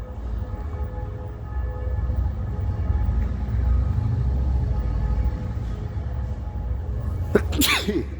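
A single sharp sneeze bursts out near the end, close and abrupt, over a steady low rumble of outdoor background noise in the town of Speyer.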